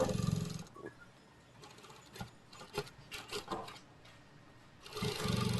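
An industrial sewing machine stitching a sportswear waist belt in a garment sample workshop, running in loud bursts at the start and end with quieter rubbing and handling noises in between.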